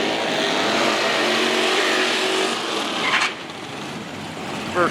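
A ProMod VW drag race car at the start of a pass, its engine droning loud and steady under a broad roar, then briefly dropping and building again near the end.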